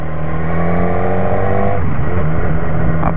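A BMW S1000R 1000cc sport motorcycle engine revs loudly up to a high pitch, then drops back into a rough, throbbing idle, close by.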